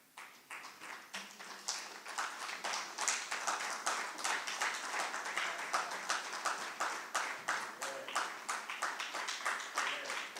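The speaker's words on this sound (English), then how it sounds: "we give them a round of applause" Applause from a small group at a hybrid annual general meeting as a team stands to be recognised, steady sharp individual claps filling the room at moderate level for about ten seconds, with no talking.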